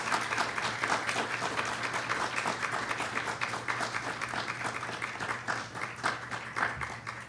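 An audience at a medical oath-swearing and awards ceremony applauding for parents, guardians and families, a steady, moderately loud patter of many hands clapping that continues without pause.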